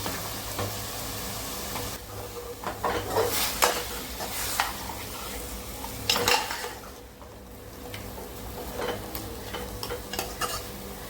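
Chicken, tomato and onion stirring and sizzling in a pan, with scraping strokes and clinks of a spoon against the vessel over a steady frying hiss, a few louder bursts of stirring standing out.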